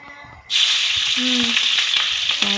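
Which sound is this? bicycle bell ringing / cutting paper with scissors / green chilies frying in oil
green chilies frying in oil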